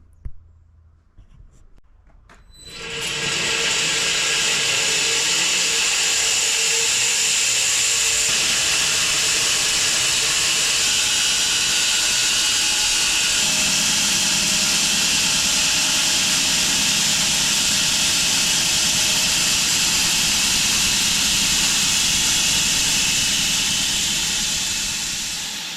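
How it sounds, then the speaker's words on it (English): A sawmill starts up and runs steadily, milling a log: a loud, sustained broadband roar that builds after a few seconds of quiet handling noises, then holds at a constant level close by for the rest of the clip. "let's get milling, eh, and see what we got"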